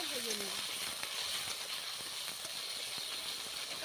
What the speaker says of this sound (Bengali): তেলের মধ্যে দিয়ে দিচ্ছি বেগুন দিয়ে দিচ্ছি